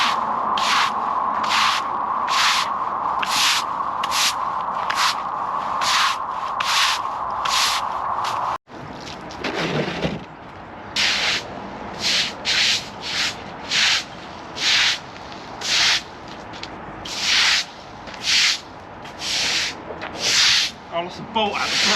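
A worn scrubbing brush works over a surface during oil spill cleanup, with rapid rhythmic strokes close by, a brief pause partway through, then slower, separated strokes in bursts.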